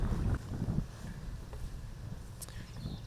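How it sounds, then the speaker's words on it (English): Wind gusts across an open, tree-lined disc golf course during a championship final round, a steady low rushing roar that buffets the microphone, loudest at the start and continuing evenly throughout without any voices. "We can see the wind starting to become a little bit more of a factor out here now."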